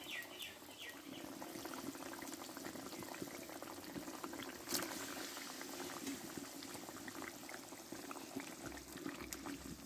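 Thin rohu fish curry with potatoes bubbles steadily in a pan, a continuous close simmering burble with small pops throughout and no talk.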